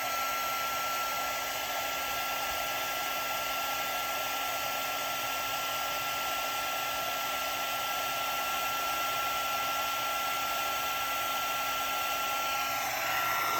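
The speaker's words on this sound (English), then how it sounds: "Now I'm going to heat up my heating tool." A heat tool for melting embossing powder on a greeting card blows with a steady, even whir like a hair dryer, running continuously at moderate volume without pause.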